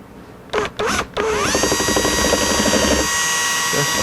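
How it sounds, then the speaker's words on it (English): A power drill fitted with a countersink bit bores into a 1964 ES-335 guitar build after a few short trigger bursts, then runs steadily with a rising whine and a faint ratcheting chatter, near and fairly loud. "I'm going to throw a countersink in this"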